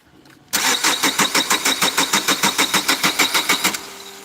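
A car engine cranks loudly and close in a steady run of about twenty rhythmic starter strokes, then catches and settles into a low idle.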